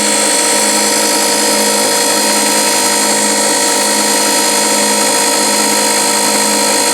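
A 9x20 lathe motor runs continuously, loud and close, with a steady whine and a belt rubbing against the back of the pulley.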